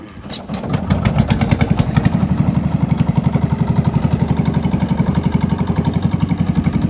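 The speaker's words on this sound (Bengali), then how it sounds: "অনুরোধ করে উঠে পড়লাম এই তরুণের ট্রলারে" A small diesel trawler boat engine chugs steadily at close range on a river, its rapid regular thumping holding an even pace throughout.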